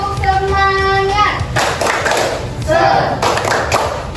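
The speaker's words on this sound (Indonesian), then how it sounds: "Tepuk semangat." Schoolchildren in an Indonesian classroom perform a rhythmic spirit clapping chant, loud close hand claps and thumps mixed with children's and a teacher's chanting voices in quick bursts.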